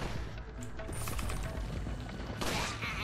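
Gunfire in the video game Resident Evil 4 Separate Ways, with a quick burst of rapid shots near the start and another sharp volley toward the end over a dense, noisy game backdrop.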